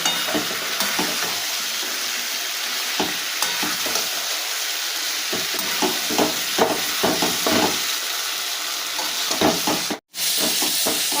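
Potatoes sautéing in a kadai for an egg curry with peas, a steady close sizzle of frying with repeated scraping stir strokes throughout, a brief dropout near the end.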